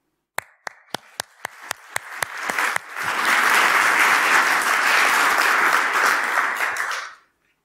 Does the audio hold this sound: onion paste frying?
no